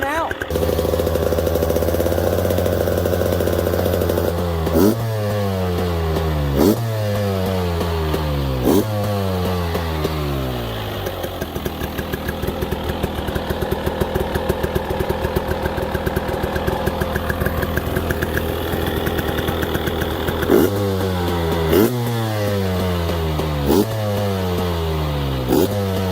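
A 2020 KTM 300 XC-W TPI two-stroke dirt bike engine runs loud and close, holding a buzzing idle broken by several sharp revs that rise and fall in repeated sweeps.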